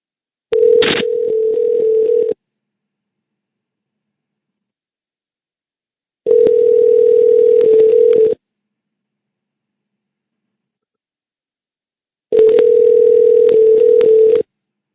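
Jail telephone call on hold: three identical steady electronic tones, each about two seconds long and evenly spaced by roughly four seconds of silence, loud and clean with a brief click at the start of the first.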